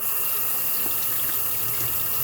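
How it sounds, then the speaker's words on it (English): Running tap water pours steadily into a sink while a dish is rinsed under it, a close, continuous gushing hiss with no speech. "Rinse it off like so. Make sure there's no soap."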